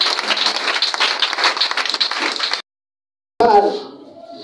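A church congregation applauding, a dense patter of clapping for a few seconds that stops abruptly, followed after a short gap by a voice speaking.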